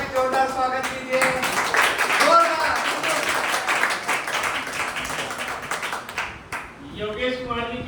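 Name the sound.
audience applause welcoming guests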